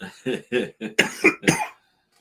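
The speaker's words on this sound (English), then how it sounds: "you making me cough again, bro" A run of harsh, rapid coughs, about seven in quick succession, close and loud, ending in silence.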